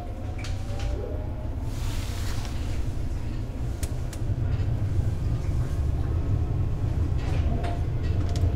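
A driverless metro train in South Korea hums and rumbles steadily on the rails, a dense low roar that builds slightly as it gets moving, with faint clicks overhead.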